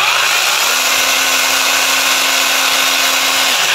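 A portable chainsaw runs steadily at close range with a constant motor drone while its chain oil is pumped, with no speech over the engine.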